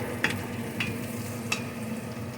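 Onions fry in a pan for sweet and sour green beans, with a constant close sizzle and a few sharp stirring clicks spaced through the short stretch.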